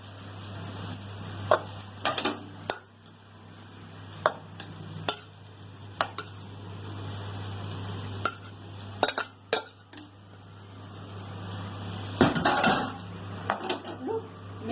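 Pots and utensils clatter while chicken dum biryani is layered with half-cooked rice and chicken gravy: scattered sharp clinks and scrapes of metal against pots over a steady low hum, with a busier cluster of knocks near the end.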